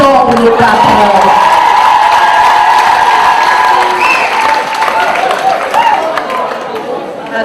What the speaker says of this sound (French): Applaudissons pour le patron.